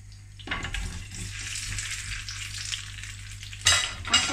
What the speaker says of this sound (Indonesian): put the potatoes, so that's hot fat